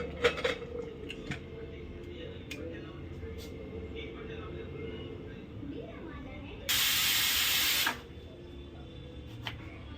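A pressure cooker holding mutton for dum biryani lets off a loud, rushing blast of steam that lasts just over a second. Kitchen clatter and faint household noise sit around it.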